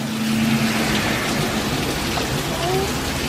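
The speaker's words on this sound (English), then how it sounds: "It's raining." Steady rain pours down outdoors as a continuous dense hiss, loud and close, with no talk over it.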